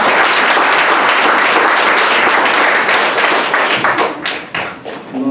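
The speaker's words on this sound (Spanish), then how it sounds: "démosle un caluroso aplauso a la doctora" An audience gives a warm round of applause to a doctor introduced as a speaker at a Synod on the Amazon talk, dense steady clapping that thins and trails off near the end.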